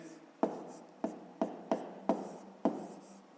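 Pen strokes on paper while working out a fifth-grade maths exercise, six sharp scratching onsets spaced about half a second apart, close and clear with no talking.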